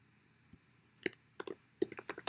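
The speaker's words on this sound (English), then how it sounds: "Let me get the motherfucking typing." Several sharp, scattered clicks of typing on a computer keyboard, a few isolated keystrokes then a quicker burst, fairly faint over a quiet room hum with no talking.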